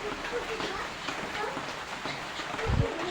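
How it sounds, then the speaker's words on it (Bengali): Steady rain pours down outdoors in the rainy season, a dense close hiss that holds evenly throughout, with a single low thump near the end. "বন্ধুরা পুরো বৃষ্টি পড়ছে"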